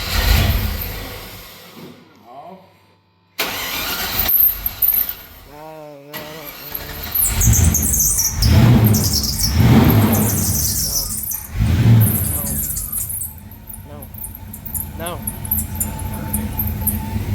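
A car engine cranks and catches, then revs with repeated high squeals over a rough running engine, while people talk nearby throughout.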